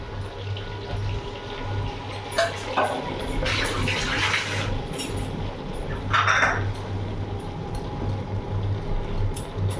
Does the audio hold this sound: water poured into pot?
yes